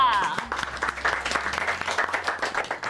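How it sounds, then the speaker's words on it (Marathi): An audience claps together during a Marathi TV serial episode, a dense burst of many hands that stays fairly loud for a few seconds, with some voices mixed in. "टाळ्या."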